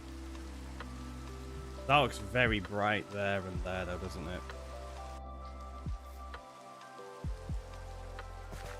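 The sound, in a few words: rain falling in the video game Minecraft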